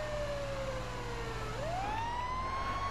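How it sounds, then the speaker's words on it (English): A synthetic police siren in the video game Grand Theft Auto V wails steadily, its pitch dipping and then sweeping back up, with a low engine rumble underneath. "Can you hear my sirens?"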